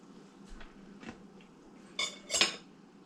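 A knife scrapes butter across a cornmeal muffin in a few short strokes, with a couple of louder scraping bursts near the end, close and otherwise quiet.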